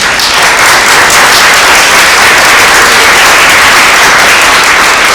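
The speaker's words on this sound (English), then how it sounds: "Y'all give them a round of applause." Loud, close, continuous applause from an audience at a one-on-one public forum, a dense wash of clapping with no talking over it.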